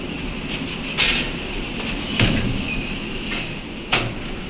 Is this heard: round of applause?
no